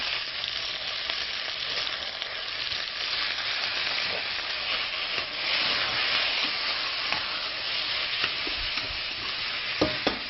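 Beef and vegetables sear and caramelize in a pot for slow-braised beef, giving a loud, steady, close sizzle with a few faint scrapes of stirring and no talk.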